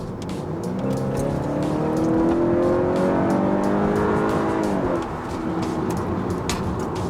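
A 2021 Honda Accord Sport with a 2-liter engine accelerating hard in sport mode, its loud engine note rising steadily in pitch for several seconds, then dropping at a shift into a steady rumble.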